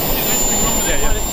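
Small jet engine driving a miniature hovercraft, a steady close roar with a high whine held throughout.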